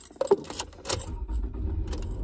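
Car keys jangle in a few brief metallic bursts close by, followed by a low rumbling background like a vehicle interior, with no talking.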